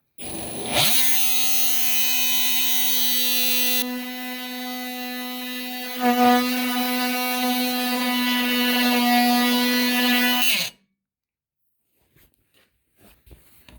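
A power tool plunge cutting into vinyl siding gives a loud, steady, high-pitched whine that shifts in pitch partway through as the blade bites, running about ten seconds alone before stopping abruptly.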